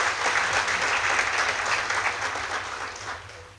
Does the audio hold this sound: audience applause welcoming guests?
yes